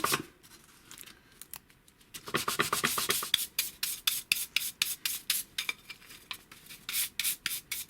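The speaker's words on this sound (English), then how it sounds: "we'll use the highly correct 3M, this stuff from the machine shop, just to take the rough edges off of it all" Rough edges of a wooden locker shelf are rubbed down with 3M abrasive pad, giving fast repeated scratchy strokes, steady and close, in a regular back-and-forth rhythm after a quieter start.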